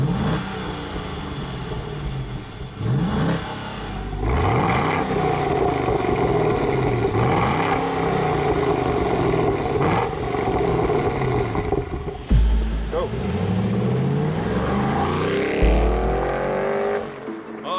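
Chevrolet 6.2-liter V8 producing 415 horsepower, driving the rear wheels through a 6-speed automatic, revs hard and loud through repeated rising shifts and sustained acceleration across the whole stretch, with brief drops between gears.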